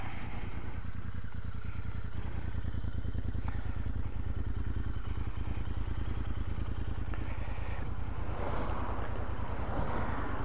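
Royal Enfield Interceptor motorcycle riding along the Cotswold Escarpment, its engine a steady, loud pulsing drone heard throughout from the saddle, mixed with continuous wind rush across the microphone.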